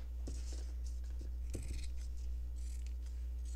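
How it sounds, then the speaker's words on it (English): Scissors snipping through fabric up close, several quick crisp cuts in an irregular rhythm over a steady low hum, with no talking. "going to cut this straight,"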